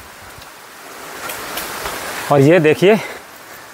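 Water trickles and splashes down into a rock cave, falling like a small waterfall, a steady broadband wash heard at moderate distance with someone speaking briefly over it toward the end.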